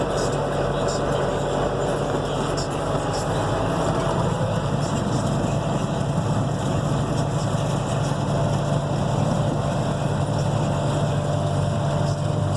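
Steady, droning engine of a tractor heard from inside the cab with the air conditioning running while it plants a fall winter cover crop on a side hill; a constant low rumble and whir, unbroken and fairly loud.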